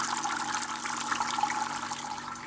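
Beer mash liquid for a coffee cream ale with oat hulls trickles steadily during recirculation. The flow is a soft, continuous, faint splashing and runs without a break, and no one speaks.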